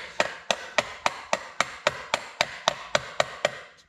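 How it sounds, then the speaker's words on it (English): Thirteen sharp metallic hammer strikes on a car part in a steady, even rhythm, loud and close, with nothing else in between. "obviously whacking this thing with a hammer is not working"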